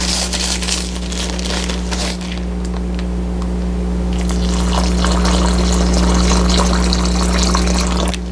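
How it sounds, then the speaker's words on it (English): Broken cereal is massaged with water inside a plastic bag, giving a loud, close, continuous sloshing and squishing with crinkling plastic, steady throughout with no voices. "Fill it up, and I'm going to massage the cereal with the water."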